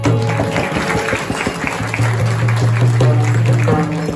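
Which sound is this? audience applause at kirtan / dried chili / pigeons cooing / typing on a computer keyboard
audience applause at kirtan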